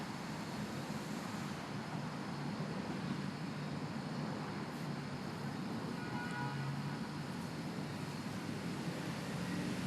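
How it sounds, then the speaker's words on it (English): Steady outdoor ambience of distant road traffic blended with a continuous chorus of insects, a broad, even wash of noise with no voices and no single sound standing out. "Notice how the sounds underneath it, the bugs, the cars,"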